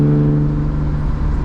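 Manual BMW E36 328i with a loud aftermarket exhaust pulls hard under acceleration, a steady droning engine note rising slightly in pitch, close and continuous throughout.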